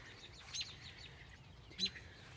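Small birds chirp faintly outdoors in short high tweets over low background rumble, with a couple of louder calls standing out, a mother bird near its baby.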